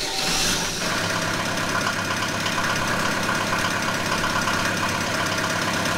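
A heavy machine engine idles in the game Giant Machines 2017, a steady low rumble with a rough, knocking texture that runs unbroken after a brief louder burst at the start.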